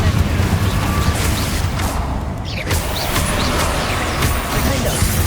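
Confringo spell blast in Hogwarts Legacy, a dense, loud mix of rumbling impacts and crackling bursts that continues unbroken, with a brief dip in the high end midway.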